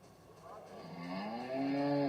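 A black cow in a stockmanship clinic arena lets out a single drawn-out moo that rises and swells in pitch, close and growing louder toward the end over a quiet background.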